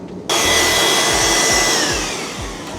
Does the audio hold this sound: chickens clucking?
no